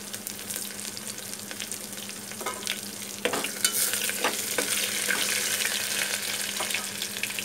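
Slit green chillies and ginger sizzle in a hot oil tempering kept on medium heat for a vegetable biryani, with a steady crackle and light stirring clicks that grow louder partway through. No one speaks.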